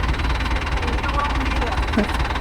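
A Mahindra Arjun Novo 605 DI tractor engine drones steadily at half RPM with a rotavator in a cotton field, idling with a constant low rumble and slight vibration, close by, while faint voices come and go over it.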